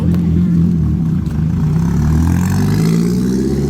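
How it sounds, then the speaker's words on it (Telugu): A sports car's engine drones loud and steady, its tone climbing slightly toward the end as the car moves along, with no voices over it. "ఈ స్పోర్ట్స్ కార్ని చూడండి"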